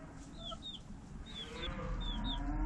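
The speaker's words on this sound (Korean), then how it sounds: "오늘은 닭장에서 제리만 나오고 톰은 나오지 않았다" Chickens clucking inside a chicken coop on an autumn day, with several short rising calls repeated at a steady pace over a constant low farmyard hum, moderately close and without speech.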